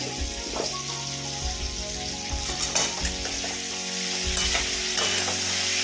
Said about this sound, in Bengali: ভালো করে ফুলকপিটা ভেজে নিলাম